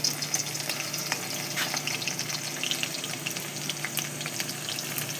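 Chopped onions fry in hot mustard oil, giving a bright, crackling sizzle with scattered pops that stays close and constant over the whole stretch.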